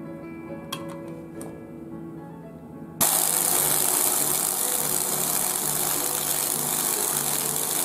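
Quiet ticking and a faint hum give way after three seconds to a normal-type impact wrench starting up, a loud, steady hammering rattle that continues to the end without talk.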